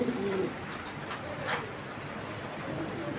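Large pigeons of a big-bodied fancy breed coo in a short, low burst at the start, followed by steady room noise and faint chirps, fairly close with no clear talking.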